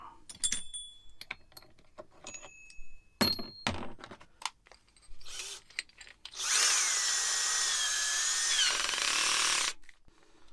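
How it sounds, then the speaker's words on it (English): A power drill whirs steadily for about three seconds, boring into the side of a wooden cabinet in a VW T4 van, after scattered clicks and handling knocks; then it stops abruptly. "So let's drill a hole at the side of the first cabinet down there"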